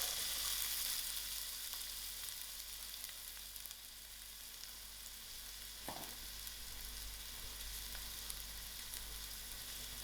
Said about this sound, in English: I will allow these onions to fry till soft